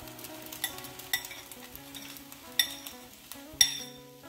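Egg whites going into leftover rice frying in a pan, with a steady sizzle broken by several sharp clinks and scrapes of a utensil against the pan, close up and without talk.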